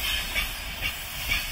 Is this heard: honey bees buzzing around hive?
no